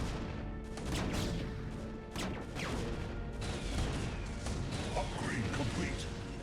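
Protoss photon cannons firing during a StarCraft Brood War campaign battle, a dense, continuous barrage of crashing, booming shots and impacts layered with game sound effects, loud throughout.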